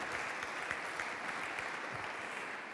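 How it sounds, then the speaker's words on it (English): An audience at a symposium claps in steady, moderately distant applause, an even wash of many hands with no voices over it. "you can please applaud"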